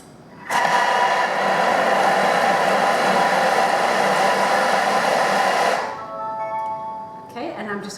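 A kitchen mixer whirs steadily at medium speed for about five seconds while blending wet and dry coconut bliss ball ingredients, loud and close, then cuts off, leaving faint clatter and handling noise.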